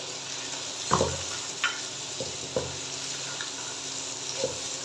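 Carrots and peas fry on high heat for fried rice, a steady sizzle running underneath a few separate spatula scrapes and clinks, close and moderately quiet, with no talking.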